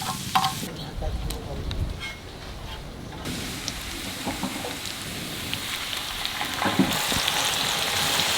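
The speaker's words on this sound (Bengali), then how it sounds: "বাটারের উপর রসুন দিলাম, ফ্লেভারটা একটু গার্লিক বাটার হয়ে যাবে।" Garlic sizzles in melted butter in a pan, a steady hissing crackle that stays continuous and close, starting quieter and then growing fuller, with a brief soft voice near the start.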